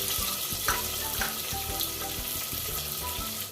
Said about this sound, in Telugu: ఇది బాగా గోల్డెన్ కలర్లో వచ్చేంత వరకు ఫ్రై చేసుకుందాం.